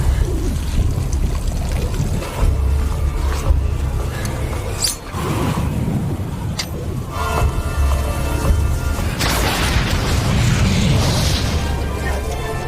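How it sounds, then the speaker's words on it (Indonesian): Explosion in a film scene on the K2 mountain, a heavy rumbling blast amid continuous loud noise, with sharp bursts and roaring debris-like wash rising again toward the end. "Sesaat setelah ledakan terjadi"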